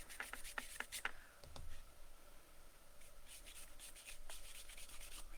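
A natural-bristle stencil brush swipes dry across a paper tag in quick, faint strokes, a soft scratchy rubbing in bursts with short pauses between.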